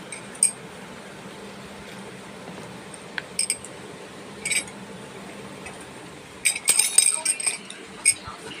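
A spoon stirs a pot of muri ghonto after salt and water go in, giving sparse light clinks and taps against the metal over a low background hum, with no talking.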